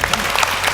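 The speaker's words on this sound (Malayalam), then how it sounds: "നല്ലൊരു കൈയടി" A burst of audience applause at a comedy show, loud and close, with dense clapping filling the short moment and no speech over it.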